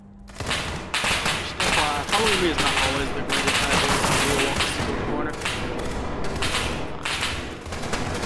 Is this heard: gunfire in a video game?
yes